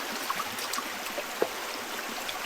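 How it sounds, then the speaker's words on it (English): Fast-moving creek water rushes at a trail crossing on the Granite Lakes hike in North Bend, Washington, a steady hissing flow with faint bubbling ticks and a brief splash partway through. "The water's moving quicker here than it has anywhere else"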